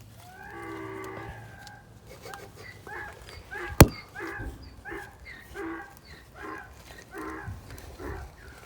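Donkey braying repeatedly in a series of loud, harsh, rhythmic honks from fairly close, with one sharp bang in the middle and other farm animal sounds around it.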